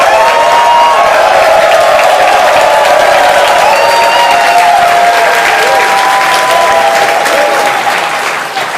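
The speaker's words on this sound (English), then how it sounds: "All right, show of applause." Loud, sustained applause from a large audience at a stock investor event, dense clapping with cheers and whoops layered on top, holding steady before easing slightly at the end.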